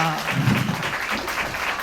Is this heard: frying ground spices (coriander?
no